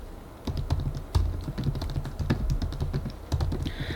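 Typing on a computer keyboard, close and clear, with irregular bursts of key clicks and taps continuing throughout.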